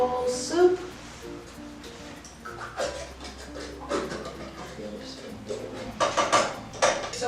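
A can of Campbell's soup is handled in a kitchen while making green bean casserole, giving light metallic clinks and knocks scattered over several seconds, with a few brighter clattering hits near the end.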